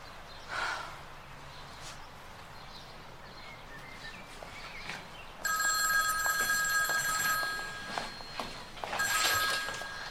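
An old telephone bell rings in two bursts: one long electric ring, then a shorter second one. Before it comes a quiet room with a few faint breaths.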